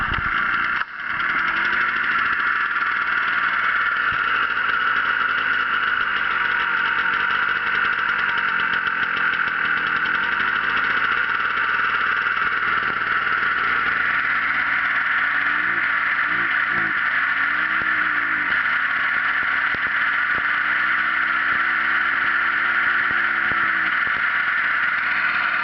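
A car engine idles steadily after a cold start with the choke just switched off, a loud continuous running drone holding even throughout, with slight pitch shifts partway through as the idle settles.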